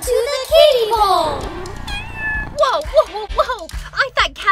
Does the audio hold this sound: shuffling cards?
no